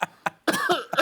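A man coughs in a sharp series: two short isolated coughs, then a longer, rougher burst of hacking and throat noise, closing with another cough, close and fairly loud.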